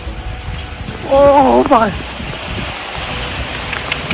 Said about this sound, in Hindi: ओले पड़ने स्टार्ट हो गए हैं।